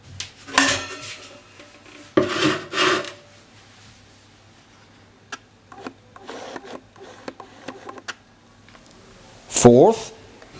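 A lid set on a pot of nettle leaves steeping in just-boiled water gives clattering metal clanks in a few bursts, with lighter taps and a brief squeaky scrape at the end in an otherwise quiet room.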